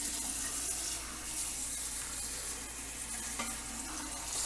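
Cold tap water rushes steadily into a Royal Berkey water filter, a continuous bright hiss of flowing water at close range with no break or talk.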